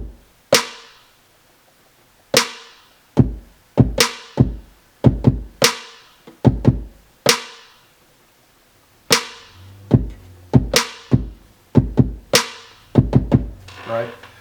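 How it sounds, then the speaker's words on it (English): Hard-hitting programmed drum pattern on a Maschine at 140 BPM, with punchy kicks and a high-pitched snare in a steady repeating groove, plus short rapid hi-hat bursts toward the end; loud and close with no talking. "I wanted to get some hard hitting drums, high sounding snare, fast hi-hats"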